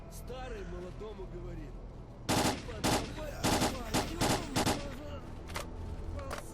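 Several rapid bursts of automatic gunfire crack out in S.T.A.L.K.E.R. Clear Sky, loud and close in short clustered volleys after a stretch of speech, with a single shot or two trailing off near the end.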